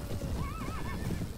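A horse in the medieval combat game Mount & Blade Warband gives a short wavering neigh over a steady background of rumbling hoofbeats, with no voices.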